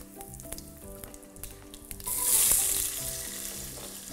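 Spices sizzle in hot oil in a pan back on the stove, first at a moderate crackle with light clinks, then surging into a louder, hissing sizzle midway as more goes in.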